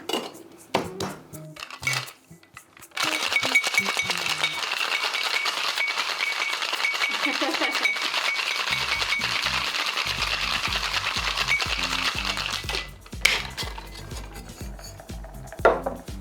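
A cocktail shaker holding a spicy margarita rattles hard and steadily for about ten seconds, ice clattering inside, then stops. Lighter clinks and pouring sounds follow close by.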